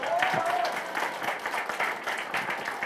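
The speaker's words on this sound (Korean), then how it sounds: "우리 친구한테 박수 한 번만 주십시오" An audience claps at a by-election candidate's campaign office opening, a dense steady patter of hands filling the room for a few seconds while voices are faintly heard underneath.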